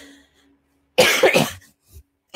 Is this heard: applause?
no